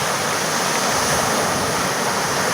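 Creek water rushes through a breach after typhoon flooding in Palawan, a loud, constant broadband roar with no pauses or voices.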